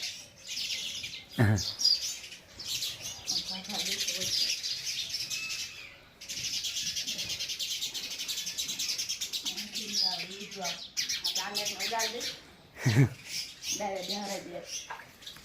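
Young sparrows chirp rapidly and continuously, high and busy, with bursts of louder cheeping; a person speaks at times beneath the twittering.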